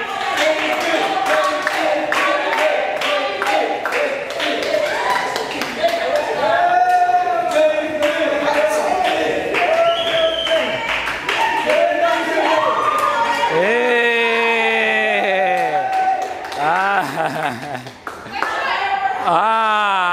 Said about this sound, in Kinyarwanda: amashyi menshi mufane